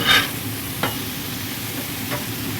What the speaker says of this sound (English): Get a color on that bacon.